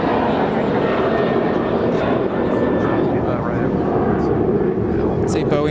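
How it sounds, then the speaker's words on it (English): A departing Alaska Airlines Boeing 737-900ER at Los Angeles International Airport gives a steady, loud broadband jet roar that holds level for several seconds, with a faint whine on top. "This is Alaska Airlines Flight 815 departing to Manzanillo."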